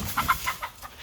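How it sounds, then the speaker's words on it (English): Chickens cluck in a quick burst of short, close calls as they move through a tunnel in a rural garden, fading out within a second. "Chickens are coming through the tunnel."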